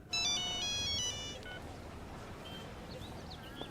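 A mobile phone ringtone plays a short melodic tune at the start of a Telugu dubbed film scene, rings clearly for about a second and then stops, followed by quiet room ambience.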